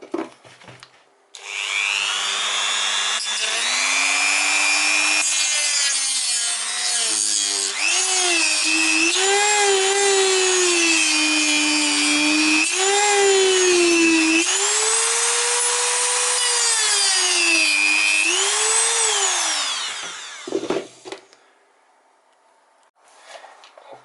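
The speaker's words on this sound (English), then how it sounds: "Okay, now I have new disc and I can finish that my job in here." Dremel cutting disc grinding through a car cabin fan housing, a loud, continuous high whine that bends in pitch as the load changes for about twenty seconds before stopping.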